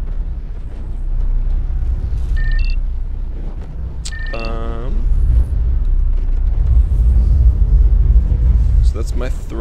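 Spaceship engine throttling up in the Star Citizen video game, a deep steady rumble that swells louder toward the end, with brief electronic beeps and chimes over it and a voice talking throughout.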